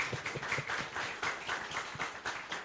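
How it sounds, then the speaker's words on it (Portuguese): Faint, steady audience applause at a lecture on tractor accidents on public roads, a soft wash of many hands clapping heard from some distance with no one talking. "pedir uma salva de palmas pelo esse projeto"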